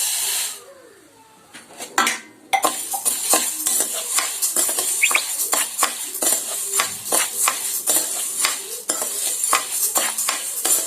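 Dry chana dal being roasted in a pan, a utensil scraping and clinking against the metal in a steady irregular rhythm of close stirring strokes, with a faint sizzle underneath.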